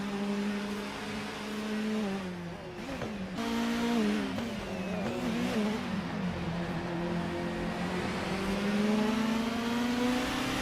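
A 1994 Alfa Romeo 155 TS touring car in a racing video game, its engine droning steadily with rising and falling revs through gear changes, a continuous, even mid-pitched note with no talk.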